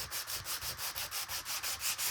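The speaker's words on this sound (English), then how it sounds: "I also have these little sanding blocks that are for fingernails, and you can just rough up the surface." A small fingernail sanding block roughs up the surface of a card in quick, even back-and-forth strokes, about ten soft rasping passes heard close and alone.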